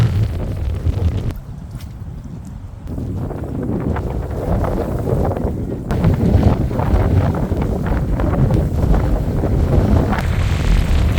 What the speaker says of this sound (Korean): 와 바람이 미쳤는데 태풍이네 못하겠다 바람 너무한다